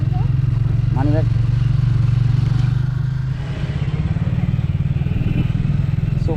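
A motorcycle ridden toward Puri on an Eastern Ghats road trip, a loud, steady low engine drone with wind rush throughout and brief voices over it.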